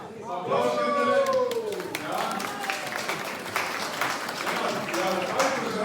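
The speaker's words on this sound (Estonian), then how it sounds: "Aplaus nendele." Applause from a crowd at an Estonian harvest festival, greeting the local villagers; steady clapping throughout with a voice talking over it near the start.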